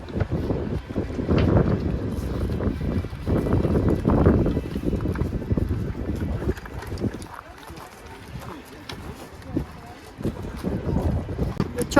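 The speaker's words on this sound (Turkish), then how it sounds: "Rüzgar esiyor." Steady wind buffeting the microphone with a low rumbling roar, gusting stronger and weaker, while people talk over it.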